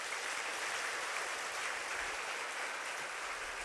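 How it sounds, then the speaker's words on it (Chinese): Steady, dense applause from a Singapore Buddhist lecture audience, sustained evenly throughout at a moderate distance with no voices. "我们就以一次热烈掌声感谢大家"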